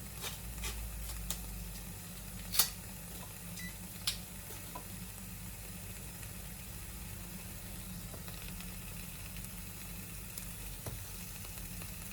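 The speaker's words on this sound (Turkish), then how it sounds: "Soğan sucuklarını koyacağım. Yağda kavuracağım" Sucuk sausage and onion frying in oil for menemen, a quiet, steady sizzle with occasional faint clicks and scrapes and no talking.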